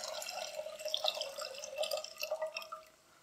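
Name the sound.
remaining cup of water poured into Kashmiri pink tea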